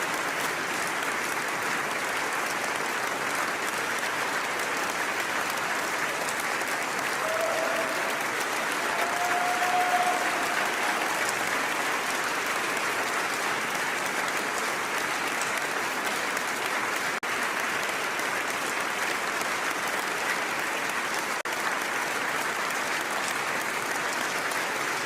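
Sustained audience applause at a formal award ceremony, even and unbroken for the whole stretch, moderately distant and filling the hall without any talk over it.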